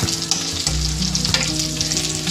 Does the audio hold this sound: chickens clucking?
no